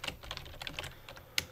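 Quick, light keystrokes on a computer keyboard as a code is typed, a close, irregular run of clicks ending in one sharper tap.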